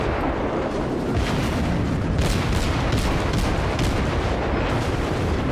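Heavy naval gunfire from a Kolberg cruiser in World of Warships firing armor-piercing shells: a dense, continuous roar of overlapping booms and blasts, with sharper bursts of salvos standing out in the middle, loud and close throughout.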